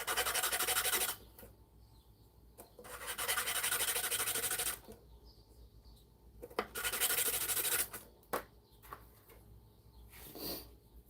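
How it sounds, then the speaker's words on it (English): Sanding a small nub off a piece by hand, in bursts of loud rasping strokes of a few seconds each, separated by quiet gaps and a few brief knocks, close up with no talking. "Let's sand our little nub off here."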